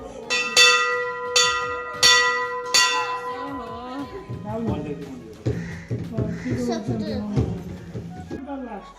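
A bright metal temple bell struck four times in steady succession, ringing out, followed by chanting voices and a busy crowd.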